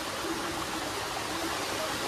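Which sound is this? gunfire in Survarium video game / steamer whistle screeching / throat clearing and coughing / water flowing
water flowing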